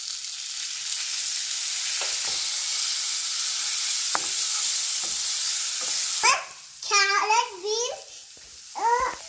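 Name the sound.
stirring vegetables with spices in sizzling pan for sambar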